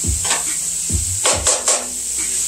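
Food browns in a hot pan with a steady hiss of sizzling, punctuated by a few clacks and scrapes of a utensil against the cookware, close and fairly quiet.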